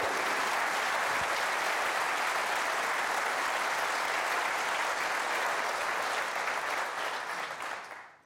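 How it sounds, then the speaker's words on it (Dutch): A studio audience on a Dutch television talk show breaking into sustained, even applause, a dense roar of clapping with no talk over it that fades away at the very end. "Dames en heren, een groot applaus."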